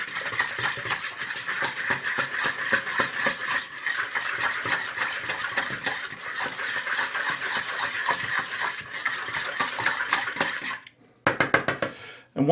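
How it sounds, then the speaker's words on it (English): A fork whisks milk, water and salt for pierogi dough in a bowl, a steady rapid clatter of metal against the bowl that runs continuously before stopping abruptly into a few scattered clinks. "And I'm going to whip this up pretty good here."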